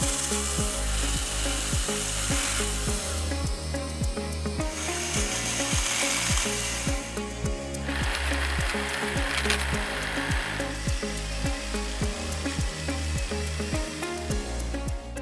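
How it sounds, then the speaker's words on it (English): A Cobra MT40VXKIT multi-tool running as a pruner and hedge cutter buzzes continuously with a rapid rhythmic chopping pulse while trimming hedges, loud and close throughout with no talking. "both the pruner and the hedge cutter make a really good job and make it easy to cut your hedges and do your pruning"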